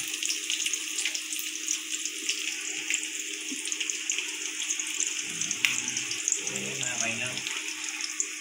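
Onion frying for murmura chivda, giving a steady bright sizzle throughout, close and fairly loud, with a voice speaking briefly over it near the end.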